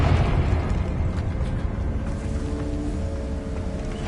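Confringo fire spell exploding in Hogwarts Legacy, a heavy booming blast with a rumbling low-end roar that trails off over a few seconds.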